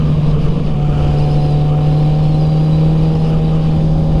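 A 1000cc sport motorcycle engine holds a loud, steady drone in second gear, a strong constant hum with little change in pitch across the few seconds, close to the microphone with wind rush and no talk.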